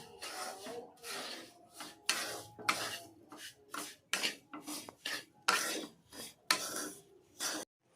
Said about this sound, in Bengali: গরম চিনির শিরাটা এর মধ্যে দিয়ে দিচ্ছি এইভাবে নাড়াচাড়া করে নিই